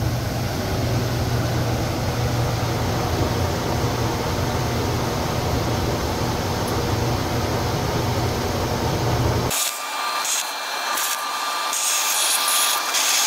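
Arcdroid plasma cutter running while cutting PowerPacks, a loud steady hissing, buzzing roar that cuts off sharply near the end, followed by quieter clicks and clatter.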